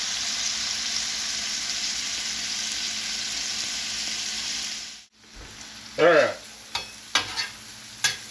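Chopped cheese meatballs fry in a pan with a loud, steady sizzle that briefly drops away and then returns. A few stirring knocks follow, along with a short spoken word.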